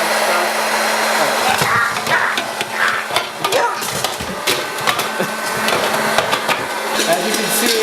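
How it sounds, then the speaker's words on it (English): A home popcorn maker popping kernels, its steady blower hiss running throughout with scattered sharp pops and clicks over it, close and fairly loud. "When exposed to heat, the kernels pop, creating popcorn."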